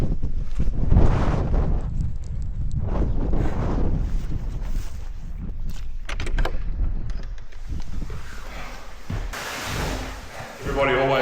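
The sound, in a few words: wind blowing on a mountain top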